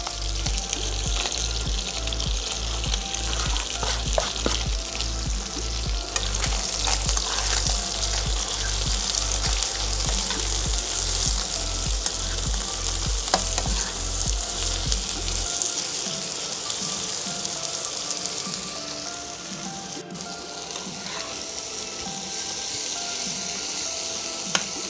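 Onion frying in a pan, a steady close sizzle that runs throughout with a low repeating hum under the first part.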